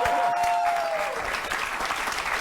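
Studio audience on a late-night talk show breaks into loud, sustained applause with some cheering, a brief tonal whistle-like note fading out early on.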